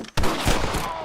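A sudden loud burst of gunfire in Red Dead Redemption on Nintendo Switch, several rapid shots blurring together into a fusillade after a brief quiet moment.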